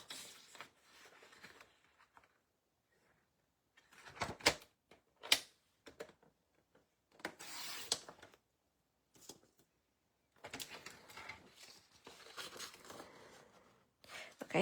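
Cardstock for handmade cards is cut on a paper trimmer, quiet scraping and slicing strokes with soft taps and paper handling between them, in separate bursts with pauses in a calm indoor space.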